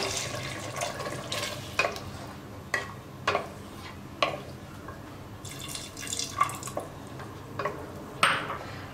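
Coconut milk pours and drips into a pressure cooker of goat trotter paya with soft splashes and scattered clinks of a spoon, fairly close, with a low background hum.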